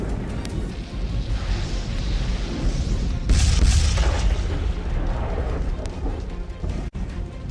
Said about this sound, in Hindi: जोरदार धमाके के साथ फाइटर जेट खाक हो गए।